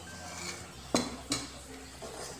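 Kitchen utensils being handled: a bowl, knife and spoon set out for making aloe vera beauty products, giving two sharp clinks close by over a quiet background.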